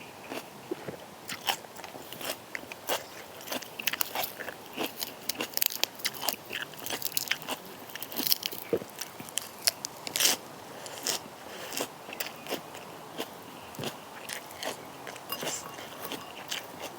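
Crunchy pork cracklings being bitten and chewed up close, a steady run of sharp crackling crunches with brief pauses, no talking, as part of a rustic meal of som tam with glass noodles and chicken feet.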